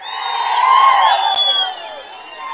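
Crowd at a Telugu Desam political rally cheering and whooping, with clapping mixed in, a loud continuous swell of voices that eases slightly near the end.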